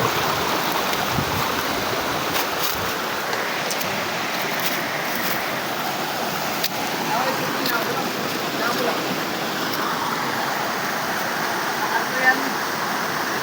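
Mahogany Falls waterfall in Dingalan, Aurora, a steady broadband rush of falling water that stays constant throughout, with faint voices and splashing from bathers mixed underneath.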